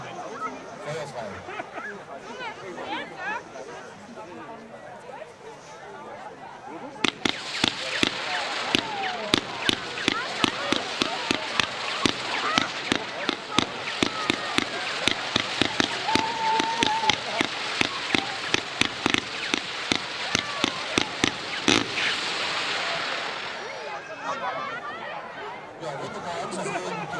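A Piranha 49-shot firework battery firing at a New Year's product demonstration in Meißen, a long fast run of sharp evenly spaced bursts over a crackling hiss, with crowd chatter around.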